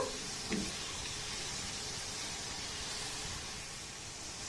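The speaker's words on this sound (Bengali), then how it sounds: "এবার এটাকে একটু নাড়াচাড়া করে আমি ভেজে নেব" Sweets made from milk powder and a little flour fry in oil over a medium-high gas flame, a soft, even hiss and sizzle that holds steady throughout, faint and continuous with one brief stir near the start.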